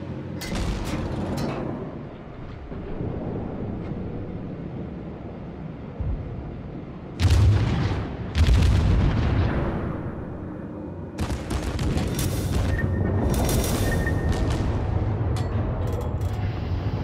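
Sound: US cruiser naval gunfire in World of Warships video game

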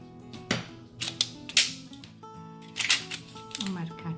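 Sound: scissors cutting a strip of aluminum can

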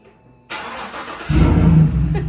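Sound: lowered truck engine starting

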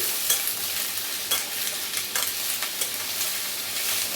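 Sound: diced potatoes frying with dried chillies and black cumin

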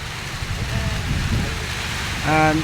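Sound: rain falling by a river

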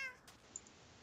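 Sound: cat meowing in a video game

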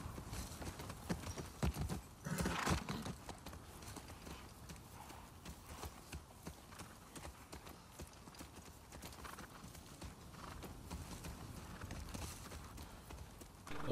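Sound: horse hooves clip-clopping, video game

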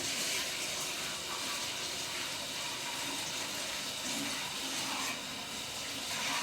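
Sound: washing hands under running tap water

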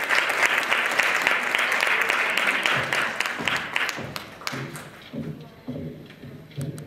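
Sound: audience applause

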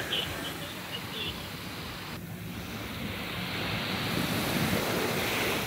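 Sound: sea waves on the shore

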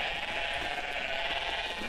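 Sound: person imitating a goat bleating

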